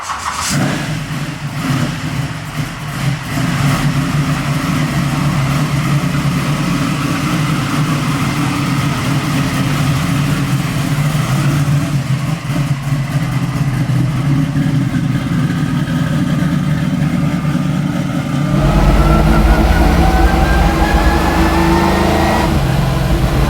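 NASCAR-powered V8 Camaro with straight-cut gears being driven, a loud continuous engine drone with revving swells, then a sharp jump in low rumble and a rising gear whine late on.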